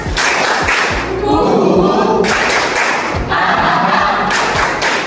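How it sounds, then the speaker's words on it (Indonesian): Children in a classroom clap a rhythmic group cheer pattern, sharp patterned claps alternating with bursts of shouted voices, loud and close. "Tepuk semangat"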